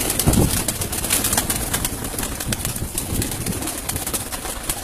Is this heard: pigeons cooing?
yes